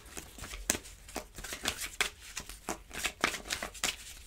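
A deck of cards shuffled for a card reading, heard as quick repeated riffling and flicking bursts, close and steady throughout with no speech.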